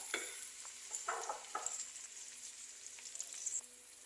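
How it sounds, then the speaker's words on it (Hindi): Chopped onion frying in a pan over a medium-high flame, a steady close sizzle with several louder bursts of stirring through the first half, no voices. "प्याज को मैं तब तक फ्राई करूँगी जब तक कि इसका अच्छा सा गोल्डन ब्राउन कलर नहीं आ"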